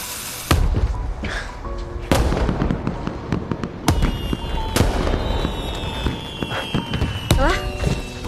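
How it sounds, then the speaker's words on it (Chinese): Fireworks set off at night: repeated sharp bangs and crackling bursts, with a whistling rocket rising and fading, loud and close, several blasts spaced a second or two apart. "咱把剩的烟花放了吧。"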